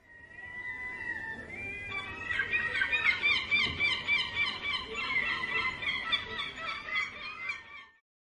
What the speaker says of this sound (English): The varied sounds of seabirds woke Antonio.